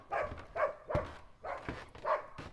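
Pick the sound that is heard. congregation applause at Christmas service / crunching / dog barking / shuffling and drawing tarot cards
dog barking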